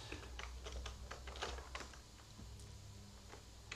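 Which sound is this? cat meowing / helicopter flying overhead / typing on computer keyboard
typing on computer keyboard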